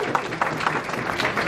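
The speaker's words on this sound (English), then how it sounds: "Give a round of applause" Audience applause at a creator Q&A panel in Cebu as a fashion and lifestyle vlogger is introduced, a steady wash of many hands clapping throughout, fairly close and continuous, with faint voices mixed in.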